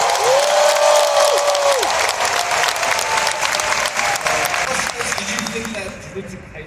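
An Anime Expo panel audience for Jujutsu Kaisen bursts into loud, sustained applause and cheering that fills the hall, holding steady before easing slightly toward the end, with an amplified voice briefly audible over the crowd.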